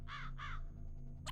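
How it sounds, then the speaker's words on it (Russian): A crow-like bird in a Soyuzmultfilm cartoon gives two quick, raspy caws back to back. A third caw cuts in at the very end, all close and clear, with no voices. "Или залетит птица?"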